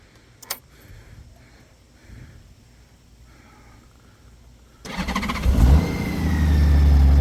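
A 2015 Honda Goldwing GL1800 motorcycle engine cranks and catches after a brief quiet stretch, then settles into a loud, steady idle up close.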